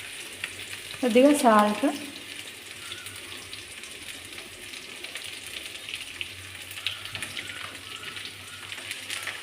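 Chopped okra pieces fry in a pan with a soft, steady sizzle throughout, close by, while someone speaks briefly near the start.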